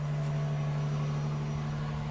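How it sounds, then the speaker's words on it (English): Twin-turbo V6 of a Toyota Tundra TRD Rally with TRD Performance exhaust, idling steadily outside the pickup truck, a constant low hum with no talk. "let's go hear the twin-turbo V6 from outside the truck"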